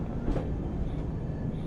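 Udyan Express coaches roll past at Kalyan behind a WAP-7 electric locomotive, a steady close rumble of wheels and carriages through the whole short stretch.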